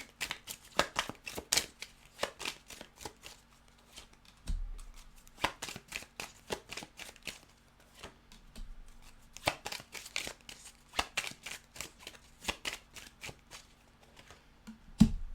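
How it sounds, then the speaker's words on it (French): Tarot cards are shuffled and drawn for a reading, with rapid crisp bursts of riffling in several separate runs, close and clear, broken by soft taps and pauses. "je vais rajouter quelques cartes sur l'une et sur l'autre des cartes"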